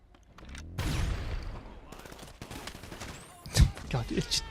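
Gunfire in GTA Online comes in scattered bursts and single cracks over game ambience, some close and loud and others softer, with a strong shot near the end. People talk over parts of it.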